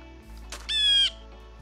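A blue jay in the Minecraft Naturalist mod gives a single short, harsh squawk with a bright tonal edge, set against a soft steady game background hum.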